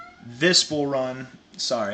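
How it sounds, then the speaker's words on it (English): A pet cat meows several times at close range, drawn-out vocal cries overlapping a man's speech. "that's my cat"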